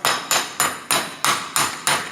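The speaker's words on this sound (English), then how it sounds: "Put the new cup in. You can start gently with the hammer." A hammer drives a new bearing cup into a Volvo brake hub: seven evenly spaced, ringing metallic taps about a third of a second apart, close and loud, with no voices.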